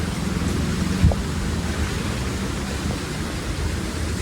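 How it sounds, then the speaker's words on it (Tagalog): Steady wind gusting over open rice paddies outdoors, a broad continuous rushing roar with one brief thump near the start, no voices. "Mahangin po pati dito kahit pumainit."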